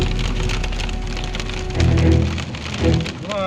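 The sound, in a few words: hail falling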